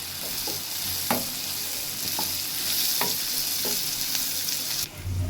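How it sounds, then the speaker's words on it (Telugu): Curry leaves and coriander leaves sizzle steadily in hot oil in a pan for tomato bath upma, with a few sharp stirring clicks of a spoon over the continuous frying hiss; no voices. "కరివేపాకు వేసుకుంటున్నామండి అలాగే కొంచెం కొత్తిమీర కూడా వేసుకున్నామండి ఇప్పుడు ఈ రెండింటిని కూడా కొంచెం ఫ్రై చేసుకున్నాం"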